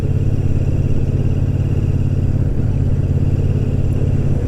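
A Royal Enfield 650 twin thrums steadily while being ridden, its even low engine note running continuously at moderate volume, with no one speaking.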